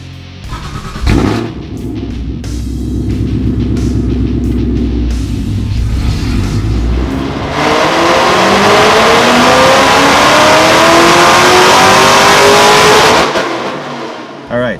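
A stock 2014 Shelby GT500 fitted with a VMP Gen3R supercharger kit, 2.4-inch upper pulley and twin 69mm throttle body, roaring loud and close on a dyno as it revs up through a long, rising full-throttle pull, then cuts off abruptly.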